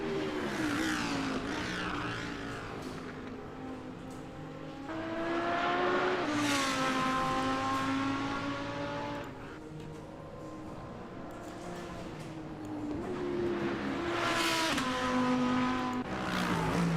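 Lamborghini Huracan race car engine in a racing video game, loud and steady throughout, with rising and falling revs as it shifts through gears and sweeps past, no talk over it.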